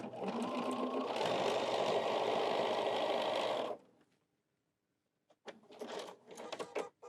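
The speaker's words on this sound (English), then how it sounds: "Then I'm going to sew up the side here." A sewing machine with a quarter-inch foot stitches up the side of a folding fabric wallet in one continuous close run, followed by a silence and a few short clicking, handling sounds.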